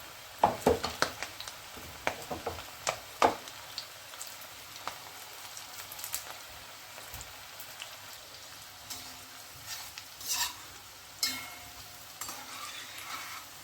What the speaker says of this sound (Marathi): जे आधी सोडलेत ना ते असे पटकन तळले जात आहेत